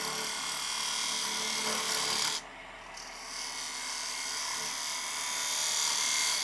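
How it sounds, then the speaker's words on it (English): A straight-edge parting chisel cuts into spinning wood on a small lathe while turning a snowman ornament. It makes a continuous close, hissing rasp that breaks off briefly partway through, then resumes. "Take our straight edge parting chisel now, and we can use that line as our guideline"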